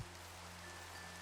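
Steady rain falling in the Minecraft survival video game, a quiet, continuous hiss of drops with a low steady hum underneath and no talk.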